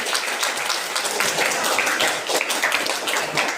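Classroom applause for a student group, a short burst of quick, close clapping from a small crowd of pupils, fairly loud and continuous throughout.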